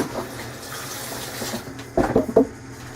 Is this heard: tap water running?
yes